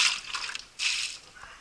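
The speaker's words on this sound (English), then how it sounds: "I'm not sterilizing, I'm just giving it a quick rinse" Water splashes and sloshes through maple sap buckets in a quick rinse, two bursts of splashing with a short lull between them, close and fairly quiet.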